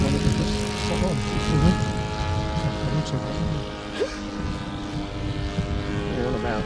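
Engine of a 1912 Blackburn Monoplane ticking over at under half throttle, a steady, loud propeller drone with even harmonic pulsing, close by, with faint voices underneath.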